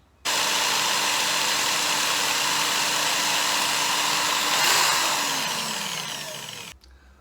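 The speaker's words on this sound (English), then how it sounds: "I'll just drill mine" Portable power screwdriver clamped to a bench drilling a hole into a bamboo float tip, a steady high whirring motor whine that starts abruptly, holds for several seconds, then slows and cuts off, close and alone.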